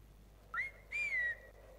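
A character in the video game Brothers: A Tale of Two Sons whistles twice, first a short rising chirp, then a longer sliding tone, both clear and close against quiet game ambience.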